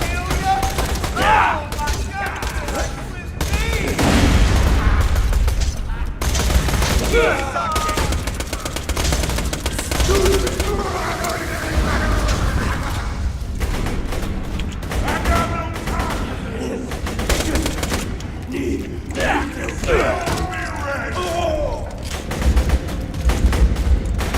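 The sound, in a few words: SMG gunfire in video game Borderlands 2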